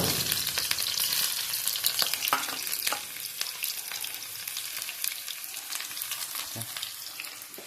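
Hot oil sizzles and crackles steadily throughout as shallots fry, with occasional sharper pops and stirring scrapes; no voices.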